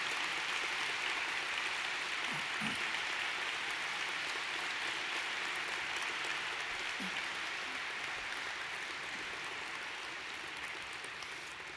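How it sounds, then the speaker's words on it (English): Hearty applause from the audience at an induction ceremony, a steady wash of clapping that holds at an even level for the whole stretch and tapers only slightly toward the end. "please join me in a hearty round of applause"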